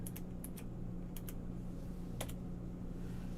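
Keys clatter on a computer keyboard in a few short, quiet bursts of typing with pauses between, close and alone over a low background hum.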